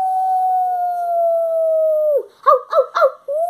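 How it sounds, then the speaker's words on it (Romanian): Puppy howling in a long, steady, drawn-out tone that slides down, then breaks into a few short yipping howls, loud and close with no talking. "Uite, urlă!"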